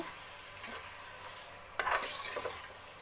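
Salt goes into a pan as a rice bath mixture fries, a quiet sizzle with a few soft stirring scrapes and one brief louder clatter near the end.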